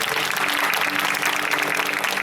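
A church congregation applauding, a dense steady roar of many hands clapping together, fairly loud and sustained throughout with no voices on top.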